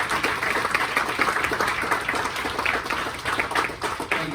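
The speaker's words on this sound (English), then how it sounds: "big round of applause for the outgoing board" A meeting audience gives a round of applause for an outgoing organization board, a dense, steady crowd clapping that holds at even strength throughout without talk.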